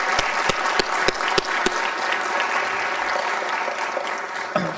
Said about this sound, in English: So let's give all of them a round of applause as well.